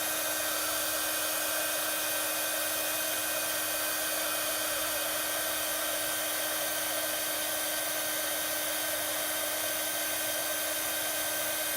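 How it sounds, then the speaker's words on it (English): A heat gun warms embossing powder on a card, giving a continuous loud blowing hiss with a steady motor hum that runs unbroken and close throughout. "And my heat gun. So a little bit of noise."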